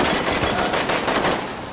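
Rapid machine-gun fire crackles through a violent film scene set inside a hotel, a dense continuous burst of shots with no voices over it.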